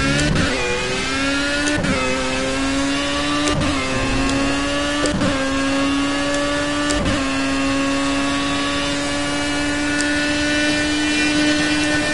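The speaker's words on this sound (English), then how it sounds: "this warm-up lap, I'm going to really sort of push it in the braking zones, on the downshifts" A race car on a warm-up lap, engine braking hard and downshifting into the braking zones. A loud, sustained engine drone is broken by about six abrupt gear-change jolts across the stretch, with no voices.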